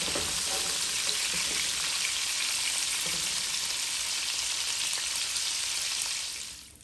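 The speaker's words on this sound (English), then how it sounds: "You will allow it to fry on both sides for about 4 minutes" Bora, a long green bean, frying in oil in a pan for a Guyanese-style dish, a loud, steady crackling sizzle that fades out at the very end.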